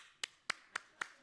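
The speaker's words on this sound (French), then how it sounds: "On les applaudit." Four sharp, evenly spaced claps or taps at a conference opening, quiet and isolated, each a short crisp burst with silence between; more like a single person's hands than a full audience applauding.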